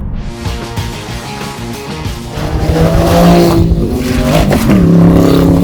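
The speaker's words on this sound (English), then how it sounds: "So I pushed the little exhaust button and it's definitely a more throaty sound." Sports car fitted with a JCR exhaust accelerating hard, a loud, throaty engine roar that builds and holds with rising and shifting revs, heard close with no talk.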